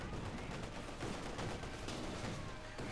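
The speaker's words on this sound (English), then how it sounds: "But there you go, shots fired here." Company of Heroes 2 battle gunfire, dense overlapping shots and bursts in a continuous loud barrage.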